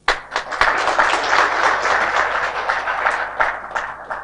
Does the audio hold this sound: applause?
yes